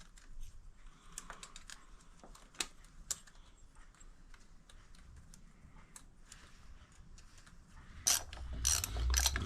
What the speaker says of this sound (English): Just tightening down that manifold.